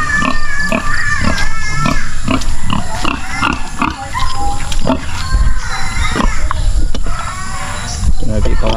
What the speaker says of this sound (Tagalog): Nandito yung barakong baboy.